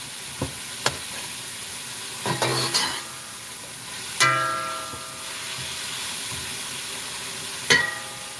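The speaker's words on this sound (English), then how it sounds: "Saute it down a little bit before I add the fish to it." Fish dish sautéing in a pan, a steady soft sizzle with a few clinks and scrapes of a utensil stirring against the pan at irregular intervals, close and clear without talk.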